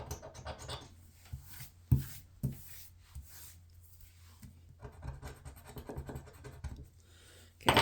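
A coin or fingernail rasps across a lottery scratch-off ticket in short, uneven bursts of scratching and rubbing, close and fairly quiet, with sharp taps between strokes and no talk.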